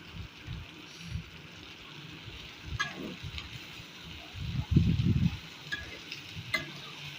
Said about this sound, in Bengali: সবগুলো পাট শাক আমি পেঁয়াজে ভাজার মধ্যে দিয়ে দেব